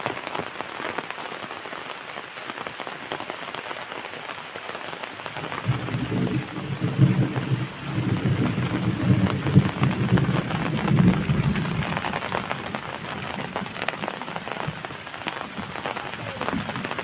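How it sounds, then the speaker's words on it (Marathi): Monsoon rain in the Konkan region pours steadily onto surfaces, growing heavier and denser after a few seconds, with a low rumble underneath; no voices are heard. "पाऊस आला तो काय"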